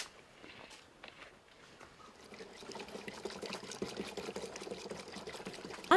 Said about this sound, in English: add 20 liters of water.